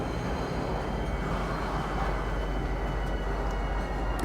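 A train in the Star Citizen video game gives off a steady, dense rumble and hiss that stays at a constant level from start to finish, with no talk.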